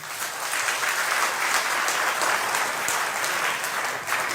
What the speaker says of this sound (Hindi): भैया ताली तो जरूर बजा दिया करें।